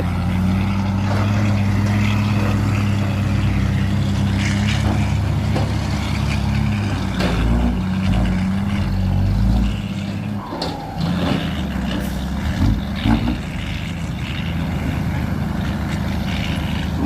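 A modified SANY 215C excavator with a replaced engine runs steadily close by, a deep continuous rumble with shifting load, briefly dipping and surging around the middle before settling back to a strong drone.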